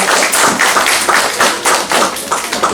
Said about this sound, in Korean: 다시 한번 크게 박수 보내주십시오